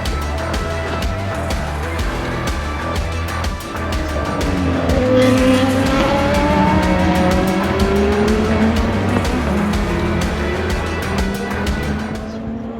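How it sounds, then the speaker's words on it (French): An Aston Martin race car followed by an LMP2 prototype roar past at Le Mans during the 24-hour race, engines loud and close with rising and falling pitch as they pass and crackle through the gears. "Aston Martin avec un LMP2 derrière."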